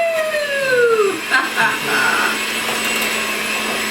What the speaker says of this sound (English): I'm going to take my hand mixer and I'm going to mix all of this together